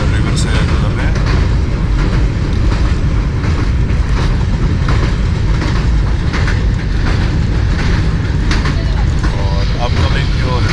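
Inside an air-conditioned parlour coach of an early morning passenger train, a loud continuous rumble fills the car with faint rhythmic clatter of wheels on track, steady throughout.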